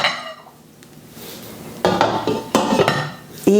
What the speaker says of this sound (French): Je vais mettre mon couvercle.